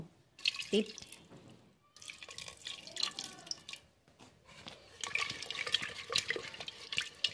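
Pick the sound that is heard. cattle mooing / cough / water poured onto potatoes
water poured onto potatoes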